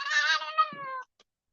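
Cat giving a single clear meow close by, drawn out for about a second before it stops, then a faint click in near silence.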